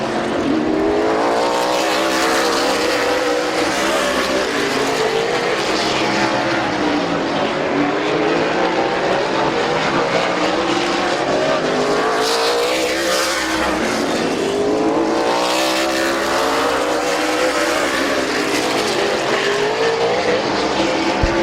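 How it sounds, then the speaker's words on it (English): Stock cars race around the oval at Midvale Speedway, engines roaring loudly and continuously as cars sweep past in repeated waves, with no talking over the steady din. "Bud Perry to the inside of Bubba Smith to put him a lap down on lap number 60"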